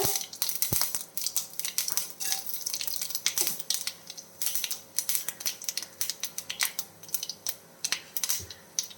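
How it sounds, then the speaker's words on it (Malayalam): Mustard seeds and dried red chillies fry in hot oil for a raw mango dish, throwing off rapid, irregular close-up crackles and sharp pops over a faint steady hum. "എണ്ണ ഒഴിച്ചു കൊടുക്കാം ഇനി നമുക്ക് അര ടീസ്പൂൺ കടുക് ഇട്ട് കൊടുക്കാം രണ്ട് ഉണക്കമുളക്"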